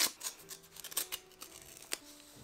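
Scissors snip and rustle through a decorated paper envelope being opened, a series of quiet, close, irregular clicks and crisp paper crackles, with no talking.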